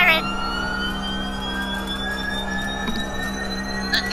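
A siren in the fighting game Injustice: Gods Among Us, a steady rising electronic tone droning over a low hum, with occasional sharp clicks and hits cutting in.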